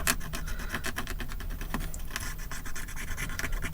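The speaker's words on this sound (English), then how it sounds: "So what I actually use now is a toothpick. It's only made of wood, so I just rub" Close scratchy rubbing from a wooden toothpick scrubbed back and forth over the lettering of a dirty dug coin, a quiet, continuous rasp with rapid repeated strokes.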